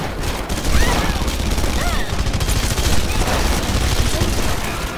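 Rapid bursts of gunfire crackle continuously with scattered booms, dense and steady throughout, like a busy firefight in the video game Red Faction Guerrilla.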